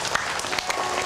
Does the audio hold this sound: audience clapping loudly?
yes